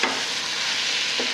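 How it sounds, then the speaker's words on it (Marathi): Vegetables stir-fry with turmeric, red chilli powder and masala for masale bhat, giving a continuous close sizzle with a light stir at the start and end. "आता हे आपण भाज्या चांगल्या परतून देऊ।"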